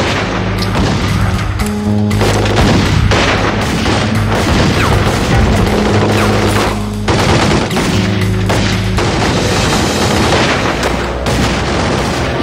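Bombs and heavy gunfire from The Godfather II video game during a Corleone expansion into Florida: loud, dense blasts and rapid automatic bursts roll almost continuously over a steady musical drone.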